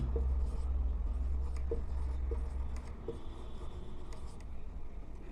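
Chalk or marker scratches across a classroom board as old and new income headings are written, a steady close scraping with short strokes over low background hum.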